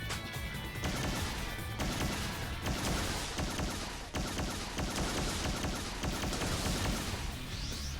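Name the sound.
gunfire from the video game S4 League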